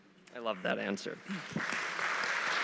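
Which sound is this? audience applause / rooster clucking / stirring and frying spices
audience applause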